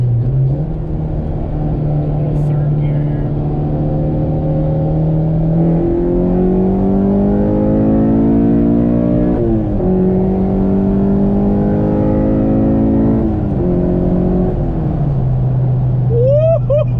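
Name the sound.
Honda K24 engine revving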